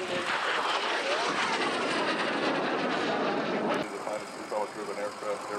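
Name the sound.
Shooting Star jet aircraft flying at airshow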